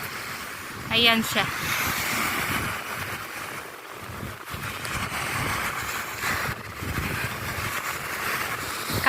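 Sea waves wash continuously onto a beach, a broad steady rush of surf mixed with wind buffeting the microphone, with a person talking briefly over it.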